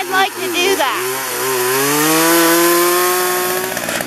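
Chainsaw cutting down a tree, the engine revving up from idle into a loud sustained high whine as it bites into the wood, close by.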